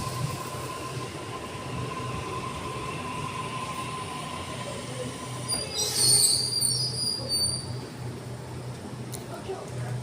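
A Sydney train pulls into Sydenham Station with steady rumbling and a squeal from its wheels that swells and then rises into high, screeching tones near the end. Faint background voices can be heard.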